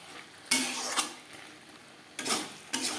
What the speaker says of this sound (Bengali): শিমের বীজের সাথে ও মশলার সাথে আলু বেশ ভালো করে মিক্স করে দেব